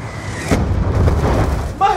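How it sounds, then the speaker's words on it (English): A Hellstorm missile strike in Black Ops 2 lands as a deep, rumbling boom that swells after a brief moment and holds for about a second. Gameplay noise and a voice follow at the end. "Hellstorm missile inbound."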